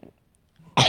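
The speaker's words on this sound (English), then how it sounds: "Sorry if I keep coughing." A sick person's single sharp cough bursts out at the end after near silence, close and loud, with a faint small throat sound earlier.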